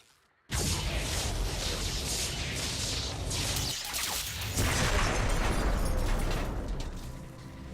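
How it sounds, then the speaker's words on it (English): A power structure is destroyed in the StarCraft II Legacy of the Void mission Templar's Return, a sudden loud explosion that erupts into a sustained roaring, crackling blast and slowly fades. "With the Hybrid eliminated, we can safely destroy the power structure."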